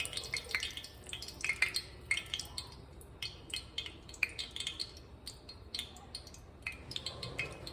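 Cold water sizzles and crackles in a hot cast iron skillet before the chicken fried steak goes in, a faint, steady hiss scattered with small pops and ticks, with no one talking.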